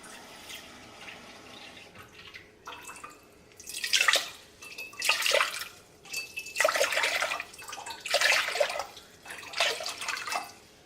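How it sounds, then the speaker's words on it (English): Tap water runs into a cooking pot in a kitchen, filling it with about four quarts. It comes in several short splashing bursts with brief pauses between them, fairly quiet and with no speech. "once your pot's filled with 4 quarts of water"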